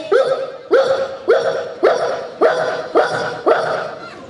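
A voice imitates a dog barking, giving about seven evenly spaced, loud yapping barks in a steady rhythm.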